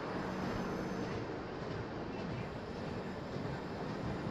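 An Indian Railways Humsafar Express, a clone of the Darbhanga–New Delhi Bihar Sampark Kranti, rolls past with a continuous broad rumble and wheel noise, loud and steady throughout.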